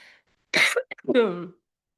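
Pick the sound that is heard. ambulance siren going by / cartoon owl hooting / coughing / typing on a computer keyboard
coughing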